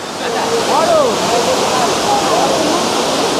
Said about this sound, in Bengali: হলো তোমার লাস্ট স্টেপ এলিফ্যান্ট ফলসের, এই হলো 3 নম্বর স্টেপ